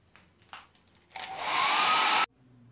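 A hair dryer blasts steadily for about a second, drying a freshly painted MDF crate plaque, after a few light knocks and handling sounds; the airflow is loud and close, then cuts off abruptly.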